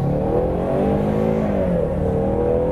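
A Ford EcoBoost Mustang pulls away from a standstill, its engine note climbing steadily and loudly from close range as it accelerates hard, with no talking.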